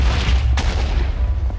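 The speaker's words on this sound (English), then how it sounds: "And they make an explosion." A blocky video game explosion from an explosives mod in Minecraft, heard as one sudden blast partway through over a steady low rumble that continues to the end.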